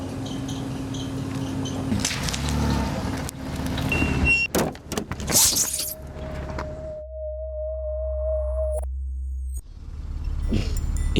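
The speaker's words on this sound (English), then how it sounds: "and then I heard the engine." In a driveway, a car engine starts and settles into a low, steady running rumble, preceded by sharp bangs and a sustained electronic tone.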